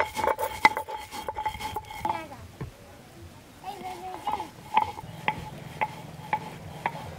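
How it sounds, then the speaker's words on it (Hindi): Roasted cumin seeds are ground by hand in a home kitchen, with irregular metallic clinks, scrapes and sharp knocks, some ringing, scattered across the clip between quieter pauses. "भुना हुआ जीरा हम पहले पीस लेती हूँ।"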